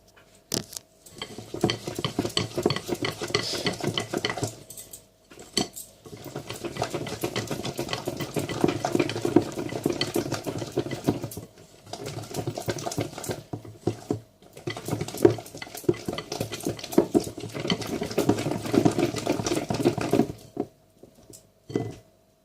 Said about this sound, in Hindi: अब सबसे पहले हम मायोनीज़ और क्रीम को जो है वो हम मिक्स करते हैं एक बाउल में